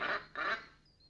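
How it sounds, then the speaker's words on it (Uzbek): A golden goose in a Grimm fairy tale honks twice in quick succession, two short nasal calls close by, then quiet. "G'oz-ku."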